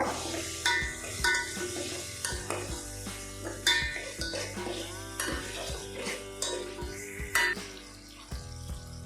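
Ginger garlic paste frying in a pan for crab sambar, with steady sizzle under repeated clinks and scrapes of a spoon stirring against the pan, close and fairly loud, no talking.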